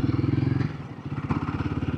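Royal Enfield Guerrilla 450 motorcycle, a 450cc single, idling with a steady rapid thumping pulse, close and fairly loud, slight dip in rhythm midway before settling again.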